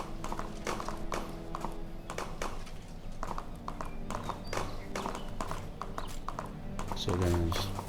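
Horse hooves in the open-world RPG Gedonia, a steady rhythmic clip-clop of a ridden horse at a brisk pace, fairly close and continuous, with a brief louder burst near the end.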